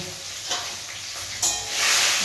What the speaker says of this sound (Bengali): মাছ ভাজা অলমোস্ট